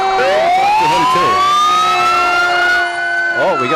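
Wailing fire truck sirens sweep up and down at a July 4th parade in Arnold Mills, loud and close, with several overlapping tones rising and holding before a new yelp begins near the end.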